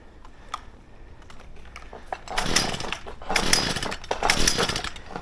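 A small two-stroke leaf blower engine sputters to life after a pull start with the choke on and a bit of throttle, crackling irregularly and then growing into a louder, uneven buzzing roar close by.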